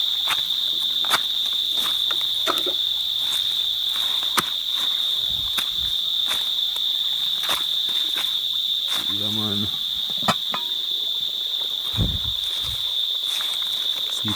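Crickets chirp in a rocky outdoor spot during a crayfish hunt, a constant high, shrill trill. Scattered splashes, rustles and footsteps sound nearby under it.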